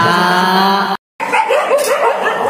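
A dog in the Free Fire video game barks and yips loudly, first in a sustained harmonic burst, then after a brief silence in quicker, choppier yelps.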